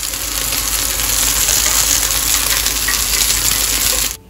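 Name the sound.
marinated paneer frying in a pan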